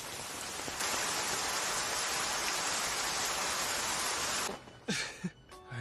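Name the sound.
rain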